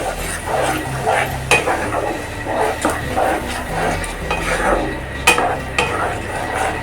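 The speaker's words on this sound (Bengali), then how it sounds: "এইভাবে করে আমি দু মিনিট মতো ভালো করে মশলাটাকে কষিয়ে নেব" Spice masala with tomato paste fries in a pan, giving a soft sizzle broken by repeated scraping strokes and occasional sharp clinks of the spoon against the metal, all close by.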